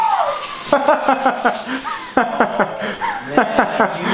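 A hotel bathroom shower bursts on with a sudden gush of water, loud and close, mixed with laughter and excited voices.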